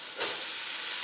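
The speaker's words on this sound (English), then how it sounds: "Can of peas and carrots. Dump it in." Canned peas and carrots are dumped into a hot pan, giving a brief wet splat that flares into a bright, steady sizzling hiss close by.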